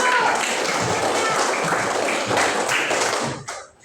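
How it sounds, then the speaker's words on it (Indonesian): A class clapping hands together in a classroom, a dense burst of many claps close by that carries on for a few seconds and then fades out abruptly. "tepuk tangan dulu"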